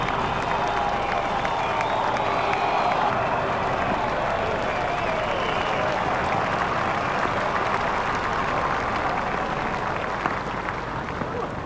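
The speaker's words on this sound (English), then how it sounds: "The crowd are standing and applauding." Cricket crowd at Lord's during an England v India T20 standing to applaud a big hit, with sustained dense clapping and crowd noise throughout, broad and steady, with some voices mixed in.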